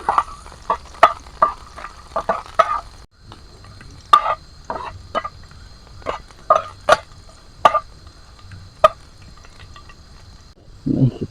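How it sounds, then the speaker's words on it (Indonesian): Garlic frying in a pan at a rainy treehouse campsite, with sizzling and repeated stirring and scraping taps at a close, steady level, and a louder clatter near the end. "Kita goreng dulu."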